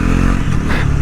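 A Bajaj Pulsar NS400Z motorcycle pulls hard in third gear, giving a loud, close engine drone with a rising tone over a brief second and no voices.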